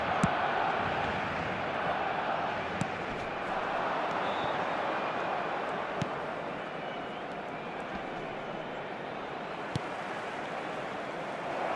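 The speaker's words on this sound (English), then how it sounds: "the crowd have tried to spark some excitement, but to no avail." Steady stadium crowd murmur in the eFootball video game, a broad, even wash of distant spectator noise with a few faint clicks, no swelling cheers, low and continuous throughout.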